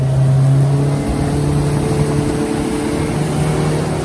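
Speedboat engine running steadily on an Amazon river, a loud, constant mid-pitched drone with a sustained hum and broadband wash of water and wind, no talking.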